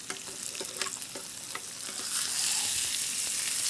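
A ribeye steak sizzles on a grill with a close, continuous frying hiss, with some light scraping early on, and the sizzle swells louder toward the end.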